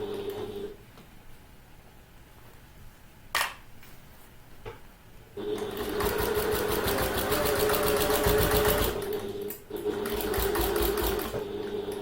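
A sewing machine stitches a handbag, starting with a quiet pause and a brief click, then running loud and steady in a fast mechanical chatter for several seconds with one short break, close by.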